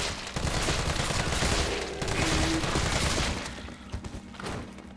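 Gunshots in the Resident Evil 3 remake video game, a burst of loud, rapid firing with booming impacts that thins out toward the end.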